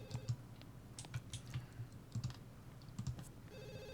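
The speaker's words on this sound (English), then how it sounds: "Why don't you go answer the phone?" A telephone rings in The Sims 2 video game, its repeated electronic tones sounding quietly amid soft game clicks and a low background music bed.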